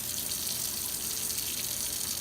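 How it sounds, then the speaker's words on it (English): Cold tap water runs steadily over cooked corn on the cob in a kitchen sink, a continuous hissing splash with no pauses, close and fairly even in level. "let's just run this under some cold water"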